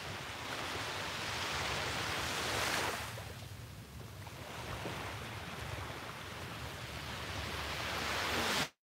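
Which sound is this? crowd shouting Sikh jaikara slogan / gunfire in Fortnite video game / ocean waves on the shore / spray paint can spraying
ocean waves on the shore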